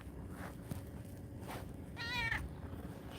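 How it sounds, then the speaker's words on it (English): A kitten gives one short, clear meow near the middle of the stretch over quiet outdoor background, with faint footstep-like scuffs around it. "I don't want to leave the kitten though."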